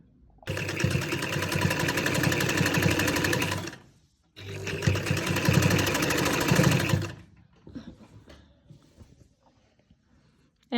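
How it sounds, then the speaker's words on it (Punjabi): An electric sewing machine stitches lace onto the slit of a kameez in two runs of about three seconds each, a fast loud rattling buzz, separated by a brief pause and followed by quiet handling. "ਇੱਥੋਂ ਆਪਾਂ ਸਲਾਈ ਲਗਾਉਣੀ ਸ਼ੁਰੂ ਕਰਾਂਗੇ"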